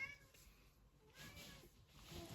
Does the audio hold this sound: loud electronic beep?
no